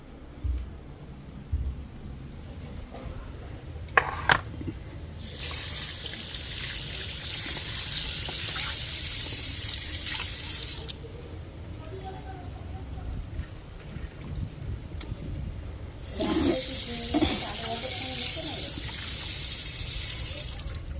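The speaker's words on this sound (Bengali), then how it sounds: "ওই জন্য বলছি একটু জল দিয়ে ধুয়ে নিলে" Tap water runs in long gushing bursts as fresh market produce is rinsed at a sink, with short clatters of handling and quieter pauses between the flows.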